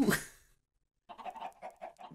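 Chickens in the game Minecraft make a brief loud squawk at the start, then after a short silence a run of soft repeated clucks follows, close and alone without talk.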